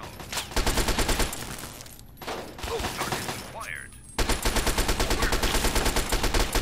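Turret gunfire in Fallout 3, loud rapid automatic bursts rattling off in quick volleys, breaking into a short lull and then a long sustained burst.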